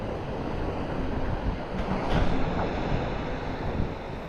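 Sea waves wash continuously onto a Welsh beach, a loud, steady roar of surf mixed with heavy wind buffeting the microphone, with no voices.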